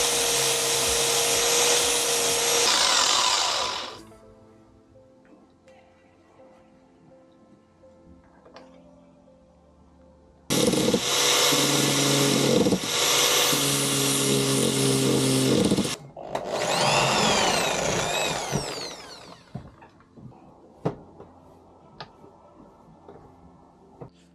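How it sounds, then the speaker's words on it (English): A loud high-pitched power tool whines through plastic, cutting a hole in a motorcycle mirror part for a custom cafe racer, in several bursts separated by quieter pauses with small knocks and handling noises. "I need to cut a hole in this so that that can slip through"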